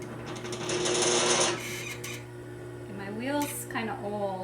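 An old pottery wheel motor hums steadily with a low drone and some clatter while soup bowls are thrown, and a voice speaks over it partway through.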